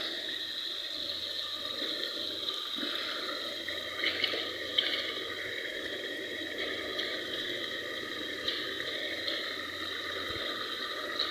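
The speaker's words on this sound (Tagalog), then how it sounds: "Ibubuhos ko na itong bagoong or ginamos." Bagoong, a cooked fermented shrimp paste also called ginamos, is poured into a pan, giving a soft continuous wet pouring and trickling sound close by, with a few faint clinks.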